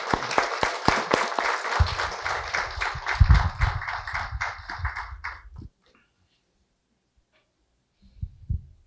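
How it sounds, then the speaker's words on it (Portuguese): Audience applause at a Sempre um Papo talk event, a dense burst of clapping from a seated crowd that holds for about five seconds, then stops abruptly into silence, with a faint thump near the end. "o público retribui com palmas"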